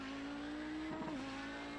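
Audi 90 GTO racing car in a video game on the Interlagos circuit, its engine holding a steady high drone that dips and rises through a brief gearshift before accelerating on, loud and continuous.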